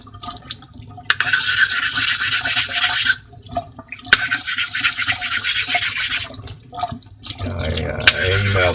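A straight razor is honed on an Imperia La Roccia stone while building up a slurry, giving a wet, rhythmic scraping and swishing in repeated strokes, close and fairly loud, with brief pauses.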